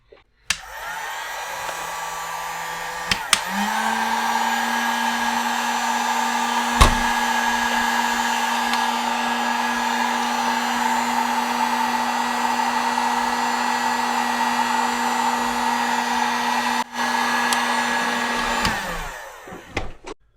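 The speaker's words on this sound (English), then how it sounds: "I'm going to use the heat gun for this last one." A heat gun blows hot air in a steady, loud, continuous roar that starts with a click, rises to full power after a few seconds and runs for about fifteen seconds before cutting off, with no talking.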